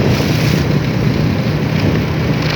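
Strong storm wind roars steadily and loudly into the microphone, a dense continuous buffeting rush with no pauses and no talk, during a violent windstorm in Salavan province, Laos.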